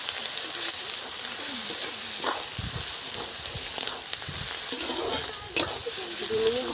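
Garlic paste frying in oil with whole garam masala, onion and bay leaves sizzles continuously up close while a spatula scrapes and stirs in irregular strokes, with one louder clatter near the end.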